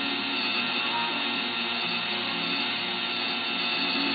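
A 93SRG axle being polished against sandpaper gives a steady, even abrasive hiss with a low mechanical hum underneath, continuous and close for the whole stretch, with no talking.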